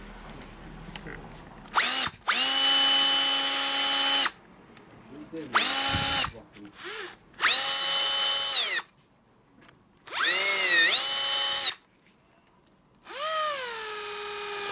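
A FEIN ASB18 18V cordless hammer drill runs in several separate bursts of a few seconds each, its high motor whine rising and falling in pitch between near-silent pauses, with no talking over it.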